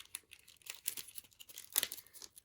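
Quiet, close tearing and crinkling of a package being cut open by hand, with scattered short rips and rustles and a louder burst near the end.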